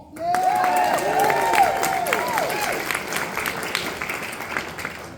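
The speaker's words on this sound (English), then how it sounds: "Let's give a big round of applause for them all." A mid-sized audience claps in steady, sustained applause that fades slowly, with some cheering and whoops rising over the clapping.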